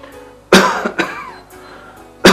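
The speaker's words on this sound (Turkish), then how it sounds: "Öksür." A patient coughs on a doctor's request during a checkup, two strong coughs close together, then a pause and a third cough at the end, close and loud.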